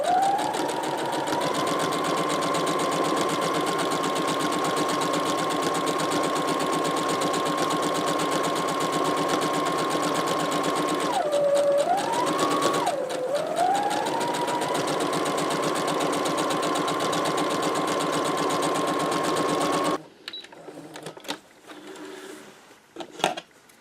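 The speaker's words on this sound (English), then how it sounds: "I'm going to turn for the bottom corner and sew across the bottom edge now." A sewing machine stitches steadily across the bottom edge of a pillowcase, its motor whirring continuously and dipping briefly in pitch mid-seam before resuming, then stopping into quiet handling noises.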